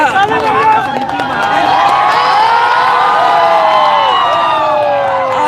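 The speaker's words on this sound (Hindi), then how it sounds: "ताली बजाइए।" Large crowd clapping and cheering at a public speech in Jharkhand, a dense, steady roar of applause and shouts that holds loud and close for the whole stretch, with a babble of voices mixed in.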